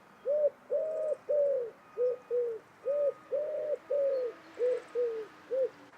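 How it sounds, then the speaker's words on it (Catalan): Common wood pigeon cooing nearby, a steady run of about ten soft, hollow coos in rhythmic phrases with short pauses between them, heard alone against quiet outdoor background. "I també haureu escoltat el tudó."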